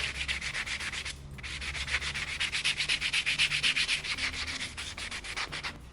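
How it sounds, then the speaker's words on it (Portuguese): Wood edge banding, a 1 mm strip, is sanded by hand with 240 grit sandpaper in a steady run of quick rasping strokes that stay close and fairly even, with no talk. "eu gosto de passar uma lixa 240, 360"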